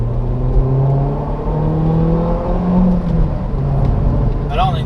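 A 2006 Peugeot 307 Feline with a 2.0-litre 180 hp engine drones and climbs in pitch under hard acceleration, heard from inside the cabin as a steady, loud engine note with a brief voice near the end.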